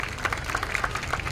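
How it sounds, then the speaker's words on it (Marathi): Brief, fairly faint burst of crowd clapping for procession participants at a community birth-anniversary celebration, scattered hand claps over a low background murmur. "खऱ्या अर्थाने यांच्यासाठी आपण टाळ्या वाजवल्या पाहिजे"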